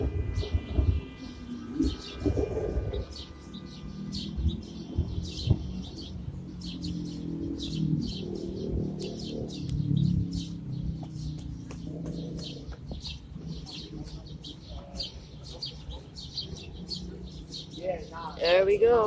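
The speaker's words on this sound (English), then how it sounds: "There we go, lots and lots and lots of birds." Many nesting birds calling loudly in an urban city setting, a dense, continuous chorus of chirps and coos layered over steady background city noise.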